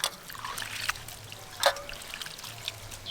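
Water trickles and pours in a low, steady stream while dried cabbage is rinsed and squeezed, with a brief louder splash midway and faint handling noises throughout.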